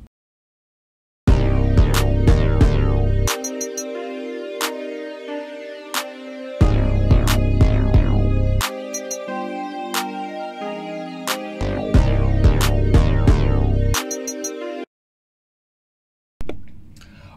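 A drum mix runs through bus compression on a Universal Audio Distressor, with punchy rhythmic hits over a sustained low tone, loud sections broken by short gaps and a sudden stop near the end.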